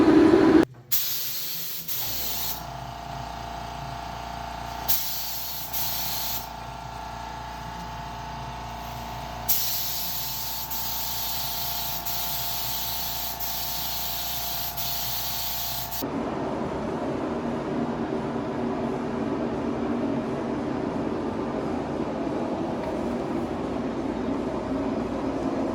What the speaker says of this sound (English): Very little overspray because I'm using an HVLP sprayer